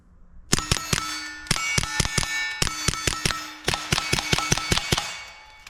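Sig Sauer P322 pistol firing Aguila standard velocity ammunition: a quick string of sharp, fairly light close-range shots, roughly a dozen in two rapid groups with a brief pause between, no talking.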